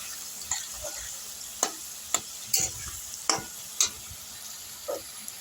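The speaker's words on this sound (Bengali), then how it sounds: "এই আলুটা আর একটু ভাজবো ভাজতে ভাজতে এগুলো ভাজা হয়ে যাবে" Potato pieces fry with whole cumin and a dried chili in a pan under a steady low sizzle, broken by about eight sharp spoon knocks and scrapes at uneven intervals, with no talking.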